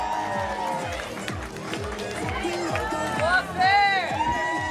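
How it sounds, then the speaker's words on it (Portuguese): Crowd cheering and clapping for podium finishers at the awards ceremony of a flower-town road race in Holambra, rising in bursts with an announcer's voice speaking over it. "Aplausos para eles, pessoal."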